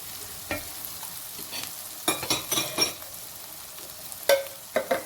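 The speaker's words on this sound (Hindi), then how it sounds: "सारे मसाले भून रहे हैं" Spices frying and being stirred in a pan for potato bhurta, with a steady soft sizzle and several sharp scrapes and clinks of a spoon against the pan, close up with no talking.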